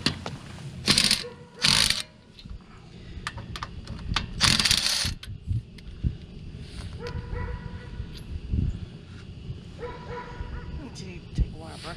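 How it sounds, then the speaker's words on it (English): Lug nuts being removed from a Honda Civic Si wheel, with bursts of ratchet clicking and metallic clinks from nuts and tools, close up, mixed with someone talking throughout. "All you need to do is remove the 5 lug nuts"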